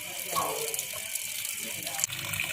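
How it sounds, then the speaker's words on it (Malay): Water and gas gush steadily from a bored well in a village in Aceh, a continuous close splashing rush with a sharp knock near the end. "Nah, inilah sumur bor yang ada di Gampong Yang baru kok. Matang Baru, Kecamatan Lapang, yang mengeluarkan gas."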